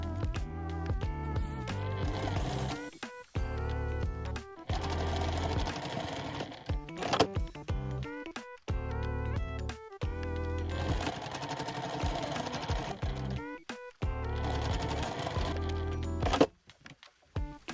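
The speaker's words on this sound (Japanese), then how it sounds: "縫い代1センチで縫います。" Sewing machine stitching fabric for a tote bag, with a 1 cm seam allowance, in several bursts of fast, even, loud mechanical running separated by short pauses.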